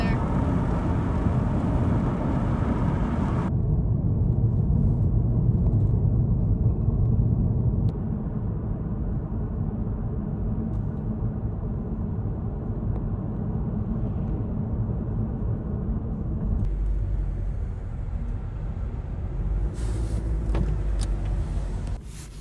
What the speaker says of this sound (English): I'm driving southwest from Moab, Utah toward like Las Vegas, Los Angeles, that direction.